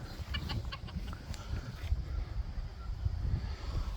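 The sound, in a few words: Ameraucana hens clucking in a chicken pen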